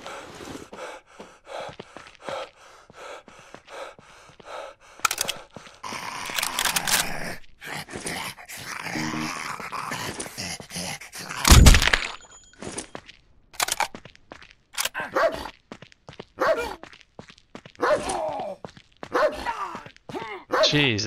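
A dog growls and barks in the survival game No One Survived, with intermittent bursts that turn sharp and loud around the middle, mixed with game effects and movement sounds.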